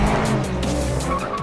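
A 30th-anniversary special edition BMW M5, the most powerful M5 built, drives hard with a loud, steady engine roar and squealing tires throughout, close and without talk.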